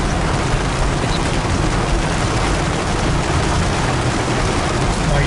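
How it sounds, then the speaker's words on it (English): Steady dense rain patters and hisses over a vehicle during a drive around an industrial barge port yard in Palatka, Florida, a loud unbroken wash with no talking. "I'm going to go silent for a minute just to let you enjoy some of the rain"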